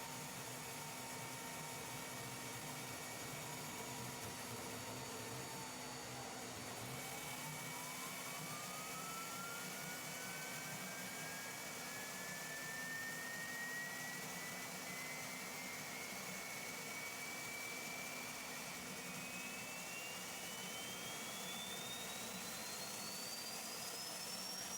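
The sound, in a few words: homemade propane jet engine running self-sustaining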